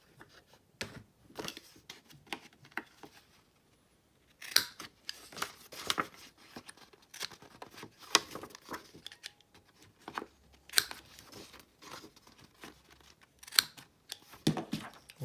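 A corner rounder punch clips paper corners in a run of sharp, quiet clicks and snaps, spaced irregularly with short pauses between, with no talking.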